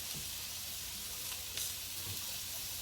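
Vegetables sizzling on a hot pan set on an outdoor grill, a faint, steady hiss with small crackles and a brief louder pop midway, no talking.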